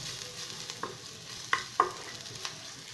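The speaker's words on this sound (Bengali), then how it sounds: "সেই অবধি আমি এটা তেলে নাড়াচাড়া করব" Garlic frying in oil in a pan sizzles softly while a utensil stirs it, with a few sharp scraping clicks against the pan.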